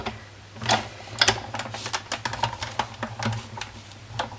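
A die-cutting and embossing machine cranks paper through for a Christmas Santa gift box. A rapid series of close clicks and ratcheting taps runs steadily throughout over a low mechanical rumble.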